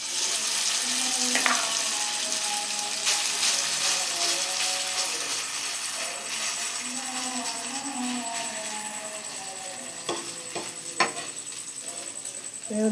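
Maggi adai frying in a pan on a stove, a steady soft sizzle running throughout with a few brief utensil clinks near the end, no talking.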